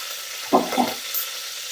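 Green chilies dropped into hot oil for aloo bath, a steady broadband sizzle with a couple of brief louder crackles early on, close and without talk.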